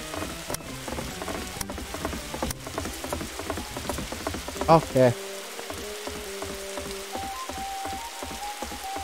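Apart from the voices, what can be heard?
rain falling in Roblox video game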